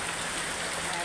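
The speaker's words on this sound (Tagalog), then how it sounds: "Grabing ulan, oh." Heavy rain pours down in a dense, continuous hiss, loud and close throughout the short stretch.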